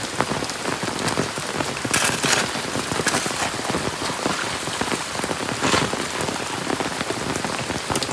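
Steady rain pattering on a surface, a dense continuous hiss of drops with occasional heavier bursts, close and fairly loud throughout.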